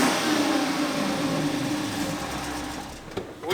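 The engine of a 2011 Chrysler 300C revs up and holds a strained, buzzing note nearby, then drops away with a brief thump near the end.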